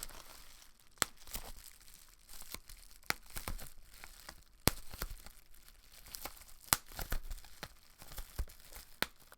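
Bubble wrap packaging and plastic wrapping crinkling and tearing close up, with sharp irregular crackles and snaps over soft rustling, no talking.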